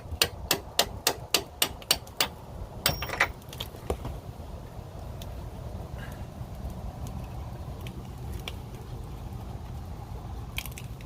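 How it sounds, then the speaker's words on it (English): Sharp metallic hammer strikes on a punch ring out in a quick series of about ten blows, knocking a bolt out of a Chevy Tahoe rear shock mount, then scattered taps and clinks over a low background rumble. "you may need to come in here with a punch and hammer and knock that through the rest of the way"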